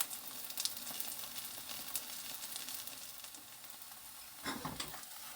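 A grated potato and vegetable pancake fries in oil in a pan, giving a constant soft crackling sizzle with brief sharper spatters, quiet and close, with no talking.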